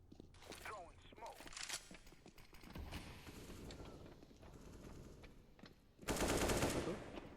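Gunfire in Counter-Strike: Global Offensive on the Nuke map, scattered shots and bursts with footsteps, ending in a louder rapid burst, while players talk over it.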